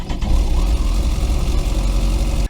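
Loud, close engine running at a steady idle of about 1200 RPM after starting, a dense low rumble that cuts off abruptly at the end.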